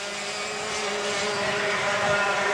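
Dirt kart engines at a 1996 race, a continuous buzzing roar of several karts at mid distance, swelling slightly as they pass.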